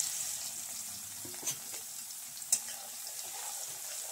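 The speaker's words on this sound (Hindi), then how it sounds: "तो मिर्चा पक गया, अब डाल देते लहसुन।" Garlic dropped into hot oil in a wok after chillies, frying with a steady, soft high sizzle and a couple of sharp clicks of utensils against the pan, no talking.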